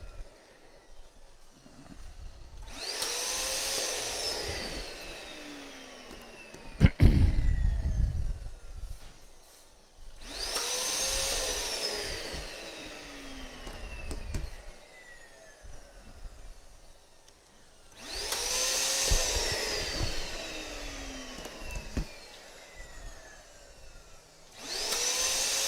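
An electric pump inflates a set of five 7.5-inch balloons for a number bouquet, its whooshing motor noise running in three long bursts of several seconds each, with quieter pauses between and a fourth burst starting at the end.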